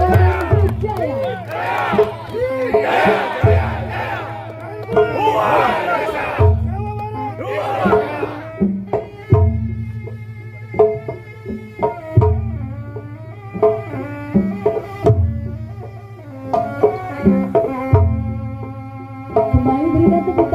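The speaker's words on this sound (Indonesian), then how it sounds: "Berikan tepuk tangan tepuk tangan meriah untuk Ketua KPU Jaya" A large crowd at a GRIB political gathering claps and cheers in loud rolling bursts, shouts rising and falling between a thumping beat, with amplified speech breaking in over the noise.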